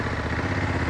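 A Honda CRF1100L Africa Twin motorcycle being ridden in touring mode, its engine giving a steady mid-pitched drone with a slight pulsing rumble, close and continuous.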